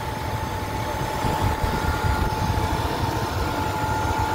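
A stock 5.7-liter V8 in a 1996 Buick Roadmaster Limited Collector Edition idles with a steady, even rumble and a constant low hum, close and loud, with no talking over it.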